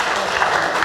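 A short burst of audience clapping at a special needs ministry student gathering, loud and close but lasting under a second.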